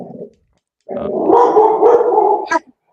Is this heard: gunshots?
no